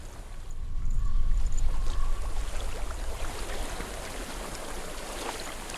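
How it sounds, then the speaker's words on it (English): Steady rushing flow of a water stream in Hellblade: Senua's Sacrifice, a loud continuous gurgling wash that swells early and then settles to an even babble, with no voices. "I hear water."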